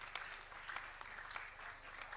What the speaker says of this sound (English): let us first of all give a round of applause to the Honorable Duale.